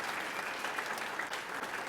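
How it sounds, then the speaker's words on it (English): A brief, steady burst of crowd applause at a city's State of the City event, many hands clapping densely and evenly with no voices on top. "give them another round of applause"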